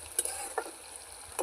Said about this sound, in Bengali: পেঁয়াজটা একটু ভালো করে নাড়াচাড়া করে আমি ভাজা ভাজা করে নিচ্ছি।